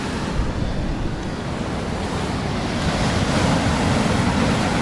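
Storm waves crash against the Sochi breakwater in a loud, continuous roar of surf with wind noise, close by and steady throughout, with no talking.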